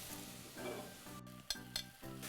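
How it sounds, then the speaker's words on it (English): A spoon stirs beef and vegetables in a soup pot for low-sodium beef and barley soup, soft scraping and a low sizzle with a few sharp metallic clinks against the pot, fairly quiet and close. "Give that a little bit of a stir."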